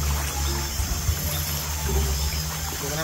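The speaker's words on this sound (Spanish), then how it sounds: "Eso es el agua que choca." At night near a seaside cave, where people are out looking for crabs, water splashes and washes against the shore in a continuous, close, fairly loud churn with small surges.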